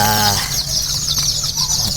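Native chickens clucking softly at close range, with a few short calls over a steady outdoor background.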